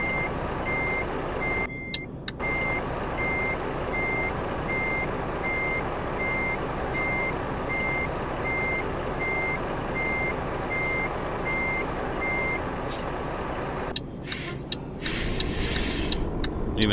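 A simulated truck hauling a tanker trailer in American Truck Simulator backs up, its reversing alarm beeping at an even, repeating pace over a steady engine rumble. Brief clicks and shifts come near the start and near the end.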